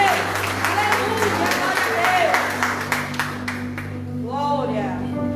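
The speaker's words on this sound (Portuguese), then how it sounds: "E a igreja aplaude lá em cima" Church congregation claps during an evening healing and deliverance service, a sustained crowd applause heard under a voice speaking, thinning toward the end as more speech continues.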